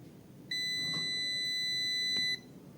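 A single steady electronic multimeter buzzer beep, high-pitched and sustained for nearly two seconds, then cutting off cleanly against a quiet background.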